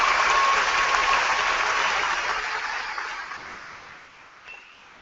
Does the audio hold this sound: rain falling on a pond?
no